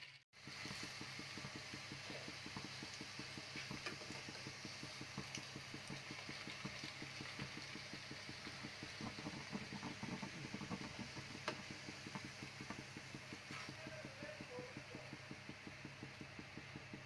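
Deep-fried ice cream, frozen for an hour, frying in hot oil: a steady, faint bubbling sizzle holds evenly from start to finish with no voices over it.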